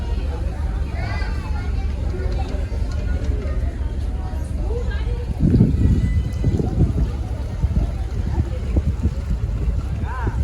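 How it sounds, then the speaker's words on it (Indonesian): The ferry KMP Terubuk 1 pulls away from the dock bound for Misool in Raja Ampat, a deep engine rumble droning steadily with wind noise and people talking nearby, swelling briefly midway. "kapal siap untuk diberangkatkan"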